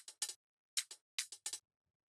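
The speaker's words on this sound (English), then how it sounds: "This first house loop sounds like this." A sparse electronic house drum loop of crisp, bright clicks and hat-like ticks in a quick rhythm, fairly quiet with gaps between hits.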